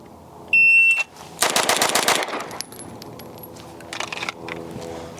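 Rapid pistol shots fired in a Bill Drill: a dense, loud string of closely spaced cracks lasting under a second, preceded by a shrill shot-timer beep, with a smaller burst of sharp noise after.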